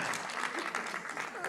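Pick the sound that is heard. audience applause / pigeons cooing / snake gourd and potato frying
audience applause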